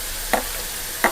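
Sliced onions frying in a pan give a steady hiss of sizzling, with two short scraping stirs standing out, close and alone with no talk.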